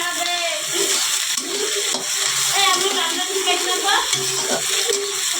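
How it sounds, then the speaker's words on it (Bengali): Onions sizzling and frying in oil in a kadai, with a continuous hiss and occasional stirring scrapes, loud and close. "তো এখন আমি পেঁয়াজটা ভাজবো, পেঁয়াজটা কড়াইতে দিই।"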